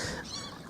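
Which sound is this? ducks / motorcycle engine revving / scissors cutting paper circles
ducks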